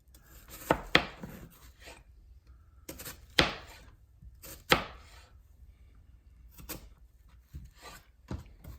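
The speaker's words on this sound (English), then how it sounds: "And then I turn the onion 90 degrees that way. And I chop." A knife chopping an onion on a cutting board, a handful of sharp, separate cuts, close and distinct, with quiet rubbing and handling between them.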